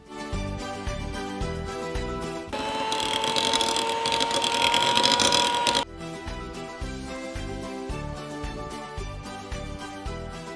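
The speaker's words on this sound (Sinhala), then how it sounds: "කන්ඩෙන්ස් මිල්ක් ටික දාලා චුට්ටක් අපි ලෝ ස්පීඩ් එකේ බීට් කරගන්න ඕන" An electric mixer beats whipped cream with condensed milk at low speed, a steady whirring hum lasting about three seconds over background music.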